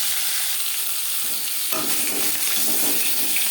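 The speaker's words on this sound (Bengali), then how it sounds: "একটা সাইজ ভাজা হয়ে গেলে অপর সাইজ ট্রাই করে আমি একটু কড়া করেই ভাজলাম" Bhola fish frying in hot oil, cooked until crisp, gives a continuous, even sizzle with a soft crackle throughout, close and steady, with no talking.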